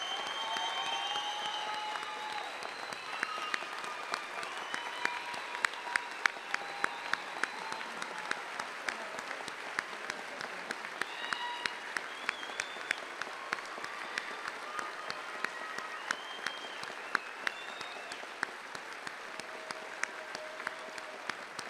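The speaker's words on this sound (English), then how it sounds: "it deserves one great round of applause for the entire class" A graduation ceremony crowd gives a long round of applause for a police recruit class, dense continuous clapping with sharp individual claps standing out, heard from within the audience.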